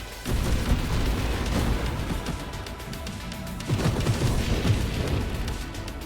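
Repeated screen-wide Nova explosions in a video game rumble and crackle in dense, overlapping bursts, a continuous barrage of booms and blasts with a brief lull near the middle.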